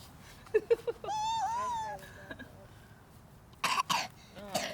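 A short cough sounds amid a cat's drawn-out meows and voices, with more coughing or throat sounds near the end.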